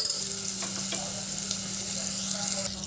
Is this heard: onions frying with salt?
yes